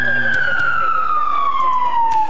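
A loud LAPD patrol car siren wails steadily close by during a 1998 police chase, its tone sliding slowly downward, with faint clatter and background noise beneath.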